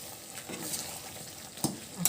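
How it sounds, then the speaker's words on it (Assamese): Cashew chicken with spices and green chilies is stirred in a frying pan, giving a soft sizzle with a few scraping strokes of the utensil, fairly quiet and close. "আকৌ ভালকৈ লৰাই দিম"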